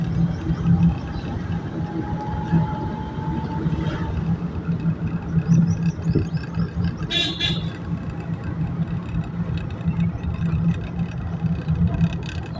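A manual car drives during a driving lesson, its steady engine hum and road rumble running close and continuous under an instructor talking, with a brief higher whine partway through.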